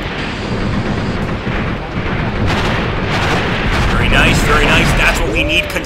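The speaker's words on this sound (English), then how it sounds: "Consistent machine gun fire" Consistent machine-gun fire from the war game Graviteam Tactics rattles on continuously with distant booms mixed in, under a steady dense battle din.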